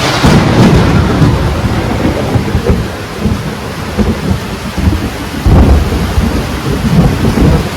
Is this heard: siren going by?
no